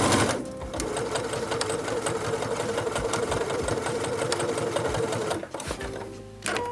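A domestic sewing machine stitches bias binding in a steady, fast mechanical whir with rapid needle ticking, pausing briefly near the end before a short restart.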